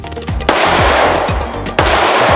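Pistol gunshots from a P30L fired at a shooting course, two sharp loud reports standing out over continuous heavy background noise, with low rumbling echoes throughout.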